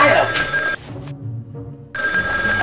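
A telephone rings in repeated bursts with a short pause between them, loud and close, over a busy indoor background with voices.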